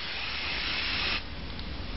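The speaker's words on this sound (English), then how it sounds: "we're going to swipe a surface utilizing paper from the blue paper dispenser, and we're going to spray" Reagent spray misted from a bottle onto a swiped paper surface for drug detection, a close, steady hiss lasting about a second before trailing into quieter background noise.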